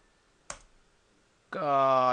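A computer keyboard's Enter key gives one sharp, isolated click in a quiet room; about a second later a voice begins speaking.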